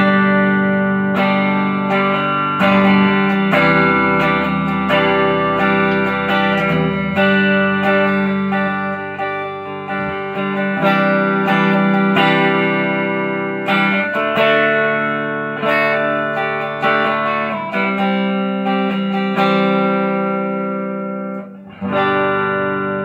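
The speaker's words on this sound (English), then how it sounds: "let me show you how it sounds to this Fender twin reverb amp" LTD GH 600 electric guitar with EMG 91 and 89 pickups played through a Fender Twin Reverb amp with one 15-inch speaker, giving a steady, loud run of sustained chords and notes on a clean tone with no talking.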